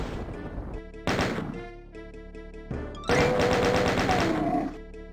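Chaingunner enemy firing in Doom 64: bursts of rapid mechanical gunfire come in several separate volleys, the longest and loudest near the end, set against game music.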